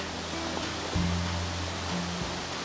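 Waterfalls in a rocky North Carolina valley give a steady broadband roar, constant and moderately distant, with a low droning hum joining partway through and no talking.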